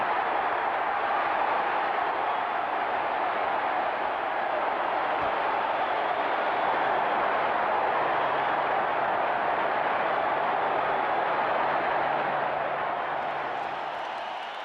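A dense baseball stadium crowd roars steadily after a grand slam in Game 1 of the 1987 World Series. The broad, loud wash of cheering holds almost unbroken and eases only slightly at the end.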